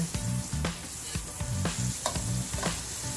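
Butter melts in a pan before chayote is sautéed, giving a steady close sizzle broken by recurring low scraping thumps and clinks from stirring, with no talking.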